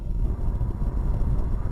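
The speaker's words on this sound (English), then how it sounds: "You can hear the engine slightly, which is typical for small engines." Small 1-liter engine of a Skoda Fabia heard from inside the cabin while driving calmly on a windy seaside road, a low, steady rumble and road roar with no talking.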